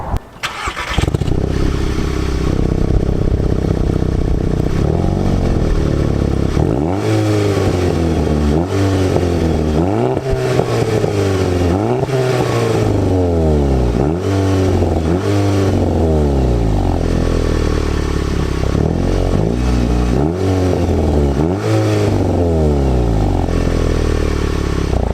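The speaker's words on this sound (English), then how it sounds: "let me go ahead and do a startup, rev the car a little bit, and do a little bit of acceleration pulls" A 2012 Volkswagen GTI MK6 with a resonator delete starts up loud and close, then revs repeatedly in rising and falling sweeps before pulling through acceleration runs, with no talking over it.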